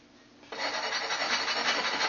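Rasping scrape of a file worked by hand against a knife blank, one steady continuous stroke starting loud after a quiet half second, close and alone.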